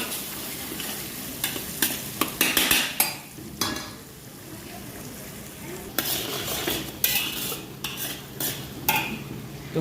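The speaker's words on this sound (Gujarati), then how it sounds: "ડુંગળીને સોતે કરી લઈ થોડી." Onions sauté in hot oil in a pan, a continuous close sizzle punctuated by repeated scraping and clinking of a spoon stirring against the metal.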